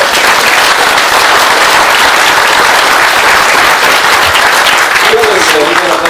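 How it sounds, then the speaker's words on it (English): A crowd applauds a retiring community member at a local celebration, with loud, sustained, dense clapping filling the whole stretch and some voices mixed in. "let's give him a big round of applause"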